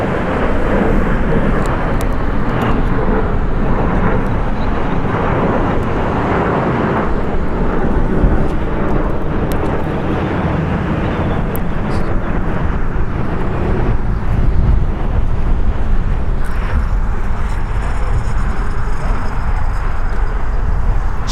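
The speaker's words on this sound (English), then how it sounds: "So that was a test flight of the 777-900." Boeing 777-900 airliner on a test flight, a steady loud roar of engine and rushing air lasting throughout without letting up, broad and rumbling with wind buffeting the microphone.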